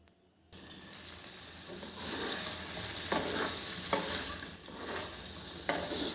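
Pieces of paneer hit hot oil in a pan with a sudden loud sizzle, then fry steadily with crackling and occasional stirring scrapes. No one speaks.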